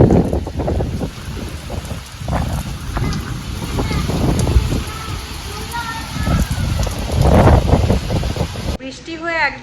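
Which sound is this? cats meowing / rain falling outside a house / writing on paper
rain falling outside a house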